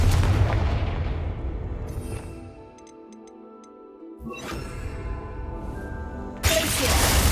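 A Confringo fire spell cast in Hogwarts Legacy, a loud fiery burst with roaring rumble that fades, followed by light ticking effects and a second blast near the end.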